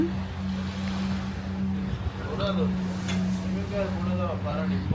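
A jet ski engine hums steadily over the ocean, with wind and water noise, while people talk over it.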